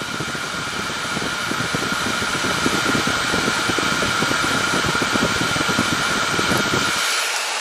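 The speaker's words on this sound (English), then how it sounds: "now low fan with the high heat setting" A Salon Series hair dryer runs on low fan with high heat, giving a loud continuous whirring blow up close that cuts off abruptly near the end.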